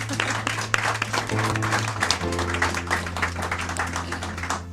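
Light applause from an audience at a geek-themed music celebration, a steady patter of clapping over a low hum and tones from the sound system, fairly quiet and continuous.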